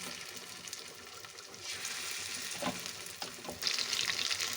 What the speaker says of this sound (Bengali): তেল গরম হয়ে গেছে এবার চিকেনগুলো দিয়ে ভেজে নেব